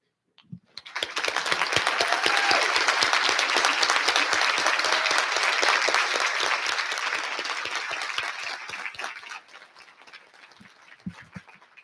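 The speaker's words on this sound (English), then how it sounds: "let's also give Mary a round of applause" Sustained audience applause at a diocesan convention business session, starting abruptly, holding steady and fairly loud for about eight seconds, then thinning out into scattered claps before fading.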